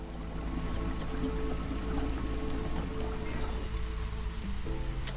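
Steady rain falls in the video game Against the Storm, a continuous even hiss with a low rumbling bed and no breaks, heard alone without talk.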